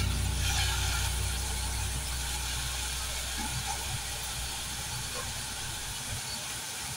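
Ginger garlic paste hits softened onions in a pan and sizzles as a steady, broad hiss, loud at first and gradually easing, without a break.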